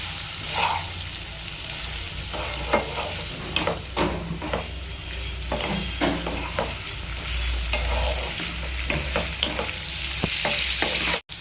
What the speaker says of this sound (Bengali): এবার এর মধ্যে দিয়ে দিচ্ছে কুচি করে রাখা একটা বড় পেঁয়াজ। এবার এটা একটু হালকা করে ভেজে নেবে।